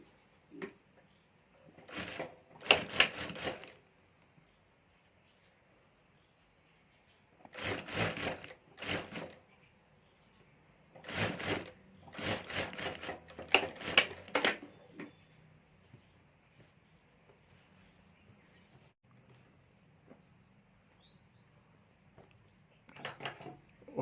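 A sewing machine stitches fabric for a clutch bag in short separate bursts of rapid mechanical clatter, with quiet pauses between runs.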